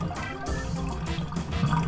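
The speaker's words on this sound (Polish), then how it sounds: "woda się leje" Water runs in a bathroom with a steady, close hiss and rush that carries on unbroken, and no one speaks.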